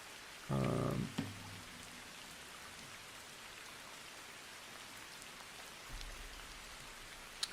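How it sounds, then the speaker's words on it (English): Steady rain ambience, a soft even hiss of falling rain that runs throughout, with a couple of brief louder thumps early on and near the end. "is the rain sound too quiet or too loud?"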